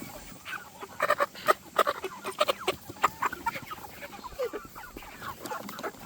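Several chickens cluck and squawk in irregular bursts, fairly close, over a steady outdoor background hiss with no talking.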